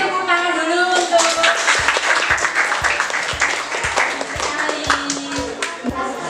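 A classroom audience claps in a steady, rhythmic beat during a school presentation, with voices chattering loosely under the clapping.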